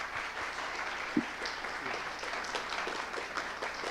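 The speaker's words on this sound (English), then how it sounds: "So please help me to thank them with some applause." An audience applauds panelists at the close of a discussion on healthy masculinity, a steady wash of many hands clapping that holds for the full stretch, with one sharp louder clap near the start standing out from the crowd.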